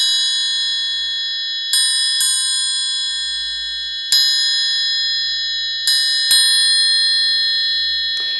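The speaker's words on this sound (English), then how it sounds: "as soon as you allow this triangle to vibrate, which is an important thing in music, have a listen to the difference." A metal triangle is struck again and again and left to ring, each bright metallic strike blooming into a long shimmering sustain, with five or six hits overlapping in a clear, close resonance.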